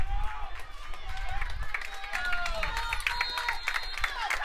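Crowds at a Grinnell vs North Polk high school varsity football game roar on their feet, a broad sustained wash of cheering with whistles and shouts from the stands, loud throughout.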